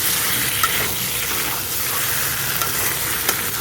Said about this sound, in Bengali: পটলটা দিয়ে একটু নেড়ে চেড়ে নিয়ে তারপরে জল দিয়ে দেবো